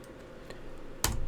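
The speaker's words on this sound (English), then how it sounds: "and I'm just clicking my mouse." Computer mouse being clicked during 3D modeling work at a desk, a few faint soft ticks followed by one sharper, louder click near the end, with no talk.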